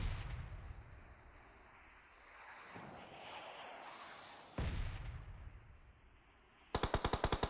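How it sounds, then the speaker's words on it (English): Mortar fire in PUBG Mobile, heard as a run of sharp, loud bursts in a rapid rhythmic volley near the end, preceded by rumbling impacts and a sudden blast partway through. "REM launching those mortars"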